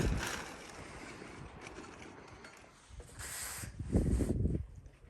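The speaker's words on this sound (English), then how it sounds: "It's super windy" Gusty wind buffets and roars at a car campsite by Santa Cruz Lake near Santa Fe, swelling louder toward the end, with some rattling and flapping mixed in.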